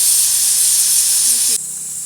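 Pressure cooker on a stove releasing steam, a loud, steady, bright hiss that cuts off abruptly after about a second and a half, leaving a quieter background.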